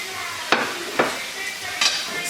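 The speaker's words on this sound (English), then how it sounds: "stir my macaroni up" Macaroni is stirred in a pot, three distinct scraping knocks of the spoon at irregular intervals over a low background hiss, close by and with no talking.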